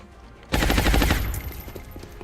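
A sudden rapid burst of suppressive automatic fire in XCOM, close and loud, its quick repeated shots rattling for about a second before trailing into echoing decay.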